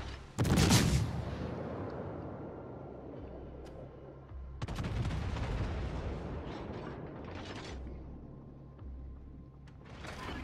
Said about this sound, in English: Making sure to make use of all of my guns.